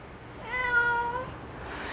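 A five-year-old calico tabby cat lets out a single clear, drawn-out meow that rises and fades over about a second against a quiet indoor background.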